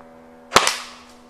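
A single sharp snap from a homemade Pocket Shot slingshot firing a shot, with a quick second impact and a short ringing tail over quiet background hum.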